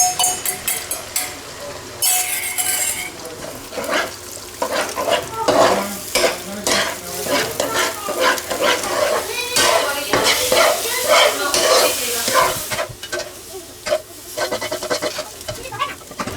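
An egg hits hot oil in a wok with peas for chicken fried rice and sizzles loudly and close, with busy stirring and scraping clatter running throughout and brief talk mixed in.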